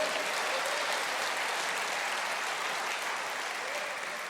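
A church congregation applauds, a dense, even wash of many hands clapping that holds steady and fades slightly toward the end.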